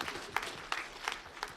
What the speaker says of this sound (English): extra clapping for the people who ask the questions